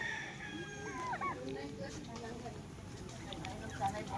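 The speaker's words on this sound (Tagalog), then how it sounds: "Dami manok." Chickens clucking and a rooster crowing faintly at a Filipino family home gathering, heard at a distance beneath nearby conversation.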